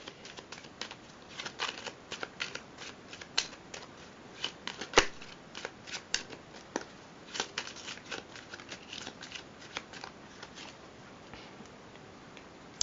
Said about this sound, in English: and then an overhand shuffle.